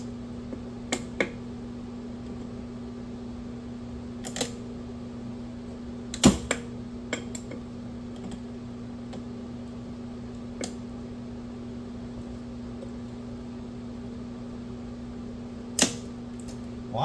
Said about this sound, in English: let's get these clamps off right here